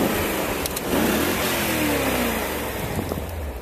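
A BMW M5 stuck in snow revs its engine as the wheels spin, a loud, close, sustained rising and falling engine roar with brief dips, no talking.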